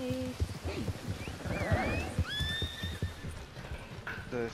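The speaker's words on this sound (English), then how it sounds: "Oh, your horse is running in place." A horse whinnies and hooves clatter in a steady galloping rhythm in Red Dead Redemption 2, close and fairly loud, with game sounds around it.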